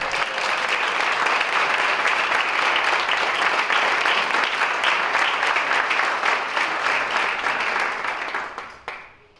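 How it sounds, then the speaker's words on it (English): Award honorees at a chamber of commerce enterprise awards event receive a long, full burst of applause from the crowd, dense clapping holding steady before tapering off and fading out in the final second. "Big round of applause for all the honorees."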